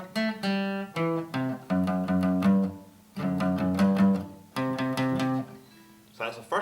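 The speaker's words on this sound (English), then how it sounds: "So The Simpsons goes like this." The Simpsons theme riff played on guitar as a quick run of plucked notes and chords in short bursts with brief gaps between them, close and moderately loud with no talking.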